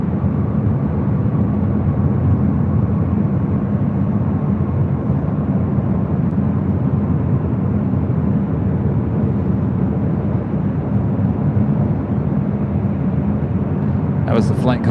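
An airliner arriving at LAX from Madrid makes a loud, continuous low engine roar that holds steady throughout, with a brief higher sound near the end.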